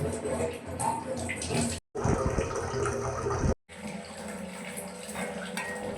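Running tap water pours into a cooking pot in a home kitchen, a steady close rush broken by two brief pauses, then resuming, with a faint voice in the background.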